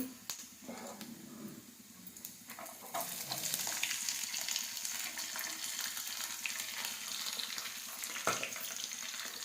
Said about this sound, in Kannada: ಈಗ ಈರುಳ್ಳಿಯನ್ನು ಹಾಕ್ತೀನಿ.